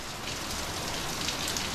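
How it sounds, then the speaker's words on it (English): Steady rain pours down outdoors, a dense, even hiss of drops hitting surfaces, soft and continuous with no voices. "oh, it's raining, it's pouring"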